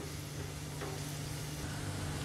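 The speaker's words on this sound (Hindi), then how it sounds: "फ्लेम को हाई करके हम 10 सेकंड तक लहसुन को सौटे करेंगे।" Chopped garlic sizzles steadily in hot oil in a pan over a high flame while making pizza sauce at home, a dense, even crackle with no talk.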